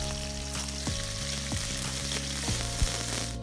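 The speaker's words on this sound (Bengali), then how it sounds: "এখানে পেঁয়াজ কুচিটাকে একটু ব্রাউন করে ভেজে নিতে হবে।" Chopped onion frying in hot oil with spices nearby for a pigeon curry, a steady close sizzle with a few stirring scrapes, no voices.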